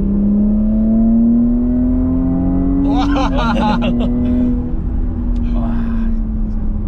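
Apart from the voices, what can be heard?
Porsche Cayenne Coupe Hybrid sport exhaust while driving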